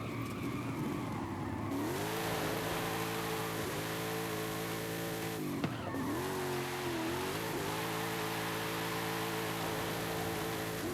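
A 1,000 HP car revs hard and slides sideways, its engine note sweeping up and down as the tires skid, loud and close, with a sharp bump midway.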